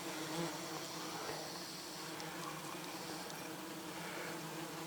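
Dense buzzing from many wasps attacking a beehive fills the air steadily, a busy swarm hovering close by with no voices.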